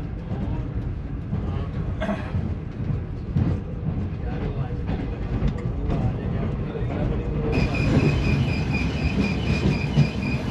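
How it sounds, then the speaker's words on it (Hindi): Shalimar Express train rolling over the Ravi river bridge, a steady loud rumble of wheels and carriages with rhythmic clatter, swelling slightly with a brighter metallic ring in the last few seconds. "इस वक्त ट्रेन हमारी दरिया रावी के ऊपर से गुजरी है।"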